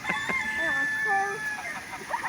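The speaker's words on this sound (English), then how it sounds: "the chickens are shouting" Chickens at a park in Bangor, County Down cluck and squawk close by, with a rooster's drawn-out crow rising through the middle, a lively outdoor farmyard sound with some background chatter.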